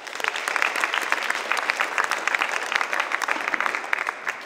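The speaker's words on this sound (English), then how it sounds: "And let's give a round of applause to Mr. Jacob Isatello" Dense, steady applause fills a high school concert hall in Cle Elum, many hands clapping at once in a continuous wash of sound.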